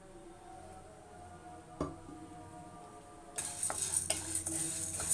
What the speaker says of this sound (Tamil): இப்போ கை விடாமல் கலருங்க. நல்லா இப்போ வறுத்துக்கலாம்.